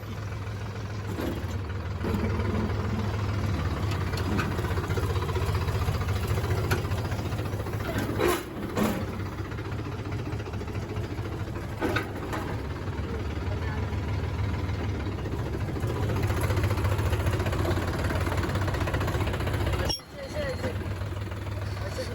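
A steady, low John Deere tractor engine rumble runs throughout as it ploughs a field nearby, with a few brief clanks and bumps over the drone.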